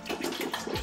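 Water pours into a wine glass during a meal, a brief continuous splashing trickle that fills the moment close and steady, with no talking.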